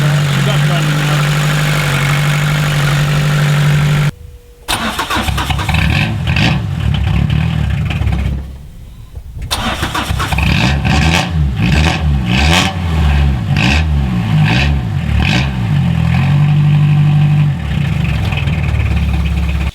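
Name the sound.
Peugeot 305 diesel engine running and revving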